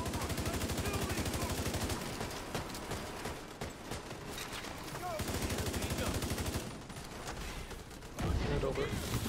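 Rapid automatic gunfire fills a Division 2 raid firefight, with continuous bursts of shots and game effects, under intermittent voices talking.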